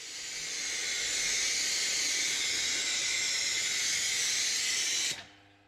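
A Halfords ceramic foam sealant hisses steadily from a spray nozzle onto a BMW X3, one long loud unbroken spray lasting about five seconds before cutting off abruptly.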